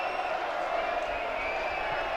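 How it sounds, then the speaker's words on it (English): Small crowd at an evening T20 Vitality Blast cricket match between Lancashire Lightning and Durham, cheering and applauding in a steady, distant wash of noise that holds throughout. "From this limited crowd, of course, still. But they're enjoying the evening and they're making themselves heard."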